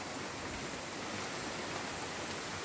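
Busay Falls on Camotes Island, Cebu, a steady broadband rush of falling water, loud and unbroken, with no voices over it.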